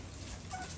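Rhode Island Red rooster and hens clucking softly on a backyard farm, a brief low murmur of fowl under a steady outdoor background hum.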